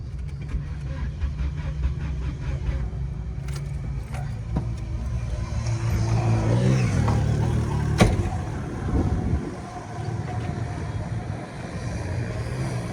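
Engine cranking and catching, then rumbling steadily with a low idle, close by, amid clanks and handling noises.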